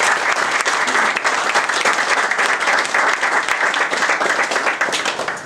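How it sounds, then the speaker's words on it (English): Sustained applause from a crowd at a carp fishing match weigh-in, honouring the event's cooks; steady, dense clapping holds at full strength throughout, easing slightly at the very end. "there's a bit of a round of applause for"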